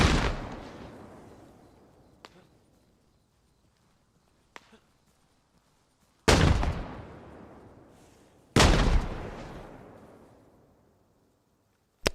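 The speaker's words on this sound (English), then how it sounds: "where are you throwing these grenades, Junior?" Grenade blasts in ARMA Reforger: one loud explosion, then two more after a long gap, each with a long rumbling tail. A few small sharp pops fall between them, and a final blast cuts in at the end.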